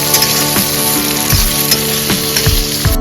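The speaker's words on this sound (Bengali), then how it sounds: "এই পর্যায়ে আমি দিয়ে দেবো কেটে রাখা একটা গোটা টমেটো কুচি। দিয়ে আবারও খুব ভালো করে পেঁয়াজের সাথে নেড়ে চেড়ে নেব।" Onion and chopped tomato sizzle steadily in a pan, loud and close, with repeated scraping stirs marking a loose rhythm through the frying.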